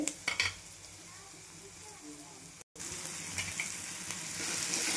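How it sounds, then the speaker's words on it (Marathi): Tomatoes frying in oil in a pan with onions and garlic-cumin paste for a capsicum besan dish, a steady close sizzle with a few stirring clanks at the start and a brief cut midway. "छान असे टमाटे भाजून घ्यायचे तेलामध्ये."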